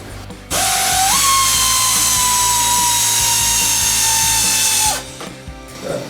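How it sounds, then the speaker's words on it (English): A power tool spins out 7mm bolts from the inner fender skirt of a 2015-2023 Dodge Charger, one loud, close, steady whine lasting about four seconds that rises briefly in pitch and then cuts off. "the first is these 3 bolts, they're number 7s. We're going to take those out."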